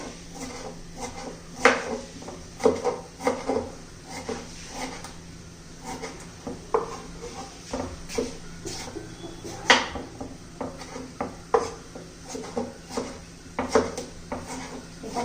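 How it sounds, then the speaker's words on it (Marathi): Knife blade finely chopping tomatoes on a board, a run of close, irregular taps and scrapes with short pauses, alone without talk. "आता टोमॅटो चिरून घेऊया. टोमॅटो पण बारीक चिरायचे."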